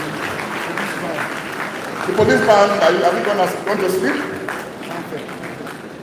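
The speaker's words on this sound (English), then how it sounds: "A standing ovation, please. Keep clapping, please, ladies and gentlemen, keep clapping." A university convocation ceremony at Baze University erupts in a standing ovation, broad continuous applause from a large audience swelling midway while someone speaks over a PA system.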